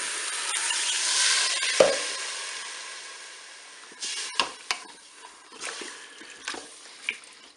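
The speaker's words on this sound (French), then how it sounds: "Je vais ajouter mon bouillon." Broth is poured into a Cookeo pot with hot ingredients already inside. A loud hiss of sizzling liquid opens and slowly fades, then a series of soft clinks and stirring knocks follows up close, with no voices.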